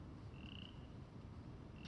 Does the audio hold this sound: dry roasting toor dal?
no